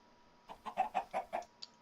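Chickens in Minecraft give a quick run of five or six short clucks, close and fairly soft, ending with a brief higher peep.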